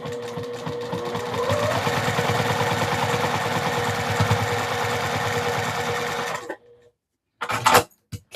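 A sewing machine stitches a quilt, a dense, fast mechanical whirr running continuously and close for several seconds before stopping, followed by a short silence and a brief burst of handling noise.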